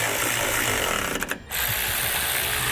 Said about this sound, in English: Now we'll tighten those bolts down.